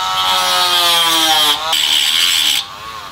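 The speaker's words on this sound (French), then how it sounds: "je vais venir tout simplement faire une rayure entre mon châssis et ma cale de carrossage ici" A tool scratches an alignment mark across a car chassis and camber shim during suspension work on a driveshaft and control arm: a steady, loud, close scraping rasp for about three seconds, pausing briefly midway, with no talk.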